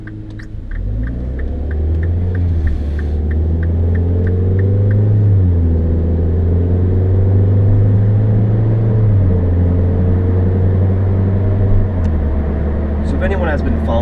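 A 2013 Mini Cooper S engine drones steadily and loudly from inside the car on public roads, its pitch rising and settling in broad waves as the car accelerates and shifts, with a brief run of soft rhythmic ticking early on.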